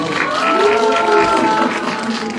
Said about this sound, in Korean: 네, 박수로 모시겠습니다.